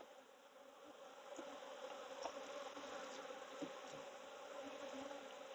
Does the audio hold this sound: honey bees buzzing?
yes